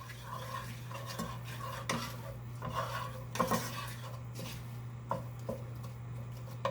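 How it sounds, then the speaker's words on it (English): Spices being stirred into a vegetable mixture for a vegetarian quiche: a spoon scrapes and clinks against the pan in irregular strokes over a faint sizzle and a steady hum, close by, no talking. "I'm just going to go ahead and stir in my spices"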